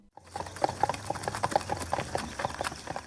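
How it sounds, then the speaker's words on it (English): Horse hoofbeats clip-clop in a quick, irregular rhythm, moderately close and steady throughout with several overlapping strikes, alone without speech. "Did these hoofbeats come from zebras or horses?"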